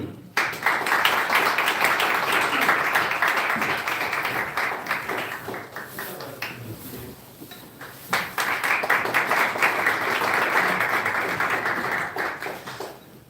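Sustained audience applause at a church ministry forum's annual general meeting, with dense broadband clapping that runs steadily, dips briefly around the middle and then swells again before fading near the end.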